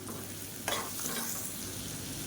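Cauliflower sizzling and being stirred in a hot pan, a steady close sizzle with a brief scraping stir partway through.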